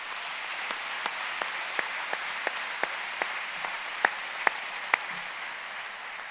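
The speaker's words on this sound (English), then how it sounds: "Can we give them all a round of applause for all they did?" A graduation audience gives a steady round of applause, a dense wash of many hands clapping with a few sharper claps standing out near the front, continuing evenly throughout.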